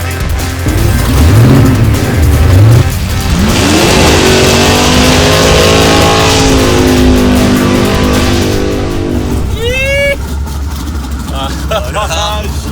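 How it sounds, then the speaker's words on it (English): A car doing a skid at Summernats, its engine roaring and revving loudly with rising and falling pitch across the run, tire noise and crowd chatter mixed in, voices talking through it. "We're going for a skid down."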